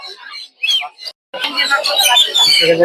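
Lovebirds for sale at the Mirpur 1 bird market chirp and tweet close by, brief bursts at first and then a dense, loud chattering chorus, with someone talking among them.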